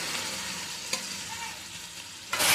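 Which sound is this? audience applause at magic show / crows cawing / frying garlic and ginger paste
frying garlic and ginger paste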